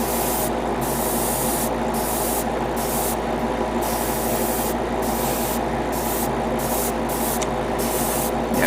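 Spray paint applied to plastic parts of a Bandai HG 1/60 ARX-7 Arbalest model kit, a loud close hiss in repeated bursts with brief pauses between sprays.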